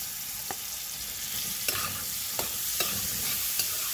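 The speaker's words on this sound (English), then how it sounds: "I'm just gonna add my shrimp into it." Shrimp go into a hot pan for Haitian spaghetti and fry with a steady close sizzle, broken by a few sharp clicks and scrapes of stirring.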